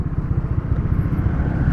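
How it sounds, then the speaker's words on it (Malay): An Aveta Nova 200 motorcycle comes to a stop, its engine running on with a steady low rumble and fairly loud throughout, no clear shutdown audible. "So sepatutnya dia akan mati enjin lah."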